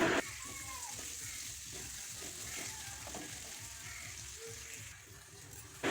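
Onions frying in a pan, with a steady broadband sizzle running the whole time and faint stirring clicks over it, nearby and continuous.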